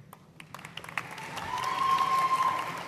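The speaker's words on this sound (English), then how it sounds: "Please be respectful with applause for your graduate so that all names can be heard." At a university commencement, a few scattered claps start sparsely and build into a modest swell of applause for a graduate, fairly distant in a large hall, with a faint whistle over the fuller clapping.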